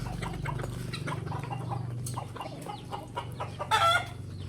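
Roosters and hens cluck in short, scattered calls close by over a low background hum, with one louder squawking burst near the end.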